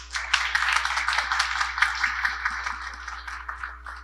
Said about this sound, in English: please have everyone join me in another round of applause for all of our speakers